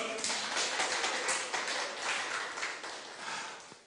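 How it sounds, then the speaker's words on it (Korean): Applause from an audience at the close of a live-streamed Saturday seminar lecture, a steady wash of many hands clapping that stays fairly faint throughout. "다시 한번 큰 박수 부탁드립니다"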